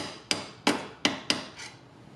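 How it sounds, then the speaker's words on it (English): Four sharp, close hammer taps drive a sleeve into the front hole of a RIVCO passenger arm rest mount on a 2018 Honda Goldwing Tour, evenly spaced and each decaying quickly, with a fainter fifth tap at the end. "I'm just putting the sleeve over it and just gently tapping it into that front hole"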